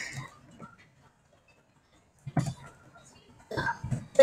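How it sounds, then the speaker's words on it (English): Two separate bursts of coughing from one person, a short one near the start and a louder, harsher cluster a couple of seconds later, close to the mic with quiet gaps between. "Coughing."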